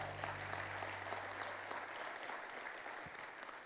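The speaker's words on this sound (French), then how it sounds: "On peut également les applaudir." A church congregation at a Hillsong service applauds the worship team, with steady, full clapping from a crowd filling the room and a low hum fading out early.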